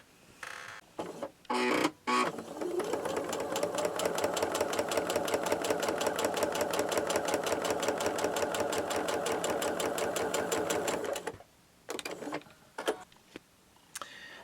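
A sewing machine stitches a diagonal seam across a quilt square in one sustained, rapid, even burst of needle clatter, with short stops and starts before and after it, close and alone.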